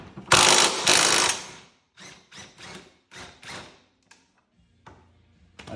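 A power tool loosening bolts under a 2024 Subaru Crosstrek Wilderness during an Ironman lift kit install, two loud rattling bursts followed by several shorter ratchet-like runs and a few clicks, close and without speech.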